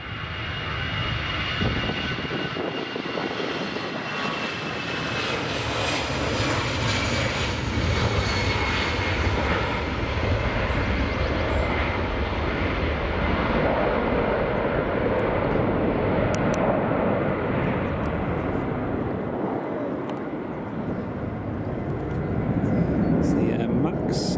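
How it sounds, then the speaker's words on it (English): Aircraft taxiing onto a stand at Edinburgh Airport, a loud continuous engine roar and whine that shifts gradually in pitch, with talking under the engine noise throughout. "India Hotel Mike Tango, just taxiing in onto the stand there."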